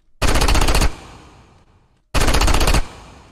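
A designed gunfire effect for Sombra's light weapon, layered with bass drum kick thuds: two loud, rapid bursts of automatic fire, each with a short decaying tail, separated by a brief pause.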